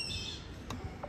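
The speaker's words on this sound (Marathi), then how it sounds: "कुठे कोकिला? काय कोकिला तिथे बघ, कोकिला दाखवते." A koel calls from a tree, a single brief squawk-like note at moderate distance, with faint background hiss and no speech.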